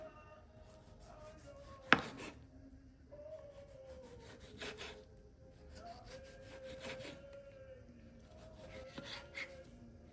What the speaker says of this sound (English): Next, slice up some fresh tomatoes.